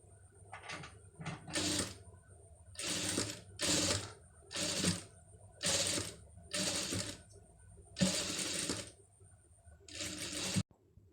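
An electric sewing machine stitches saree cloth into a pleated sleeve in short, rapid bursts. About eight whirring runs of needle clatter are separated by brief pauses, fairly quiet and close by.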